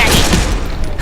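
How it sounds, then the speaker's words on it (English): Rapid, loud gunfire from Keturah in the fantasy card-combat game Hand of Fate 2, a dense burst of close shots packed into a single second. "Katura's gunshots are just ridiculous."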